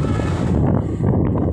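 Strong wind at sea buffets a ship, a loud continuous roar with gusty microphone rumble, close and steady throughout.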